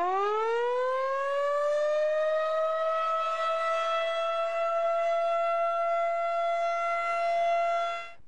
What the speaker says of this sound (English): Most counties have outdoor tornado sirens. Hearing their loud wail assures everyone outside can get the warning.